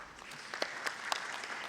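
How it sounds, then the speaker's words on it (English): A conference audience at a SADC gathering in Tanzania gives Dr. Tingo another round of applause, a soft, distant wash of many hands clapping steadily through the moment. "Let's give him another round of applause."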